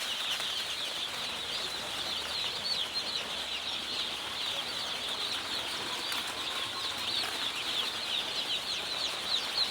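A crowd of day-old Sonali chicks peeps continuously, a dense high-pitched chorus of overlapping cheeps filling the space, close and steady without pause.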